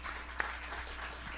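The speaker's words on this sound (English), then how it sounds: "One more round of applause for Craig." An audience claps steadily through an author event at the Miami Book Fair 2016, a fairly faint, even wash of applause with one sharper clap near the start and no talking.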